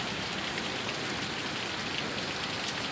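A heavy rain downpour with strong wind in Sioux Falls makes a steady, dense hiss of rain beating on surfaces, unbroken throughout.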